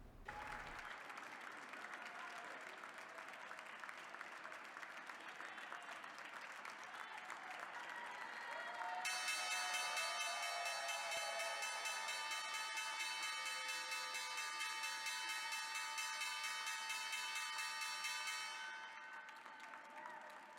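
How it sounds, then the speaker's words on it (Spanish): Sustained crowd applause and cheering fills the trading floor at a stock exchange opening for a company's public listing, joined midway by a loud, steady ringing of the opening bell that continues for several seconds before stopping while the clapping goes on. "vamos a Wall Street con el toque de campana de Kingston Capital Accounting Corp. para celebrar su salida a bolsa"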